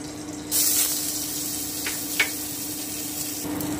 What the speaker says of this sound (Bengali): আমি 1 থেকে 2 মিনিট একটু ভেজে নিচ্ছি চালটা